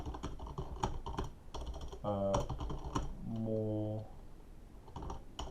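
Computer keyboard keys clatter in quick irregular bursts as feedback is typed, close and clear, while a person talks over and between the keystrokes.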